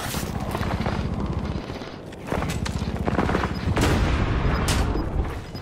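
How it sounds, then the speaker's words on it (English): Dense, loud gunfire and rolling blasts of combat in Call of Duty Warzone, with rapid rattling bursts and heavy booms stacking up continuously and a few sharper impacts, with faint voices underneath. "That's gonna be the allies proceeding to airstrike."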